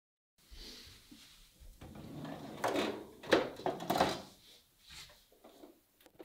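Wooden dovetailed drawer pushed in along metal drawer slides, giving a soft rolling slide with a few light knocks and clicks, fairly quiet and close, ending in a gentle bump.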